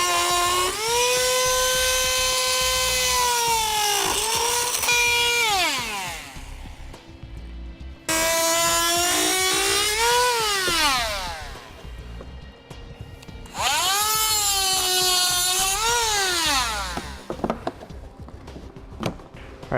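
A power tool cutting into the plastic front fascia of a 2017 Ford Focus, whining loudly in three long passes that rise, hold and wind down in pitch, each followed by a short pause.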